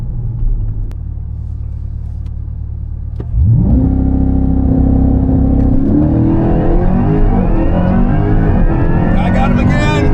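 Chevrolet Corvette launching in a quarter-mile drag race: a low idle rumble suddenly jumps into a loud, sustained engine roar that climbs steadily in pitch as the car accelerates, with voices over it.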